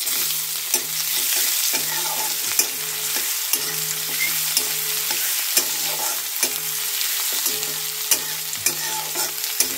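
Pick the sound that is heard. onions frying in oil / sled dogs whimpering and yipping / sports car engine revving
onions frying in oil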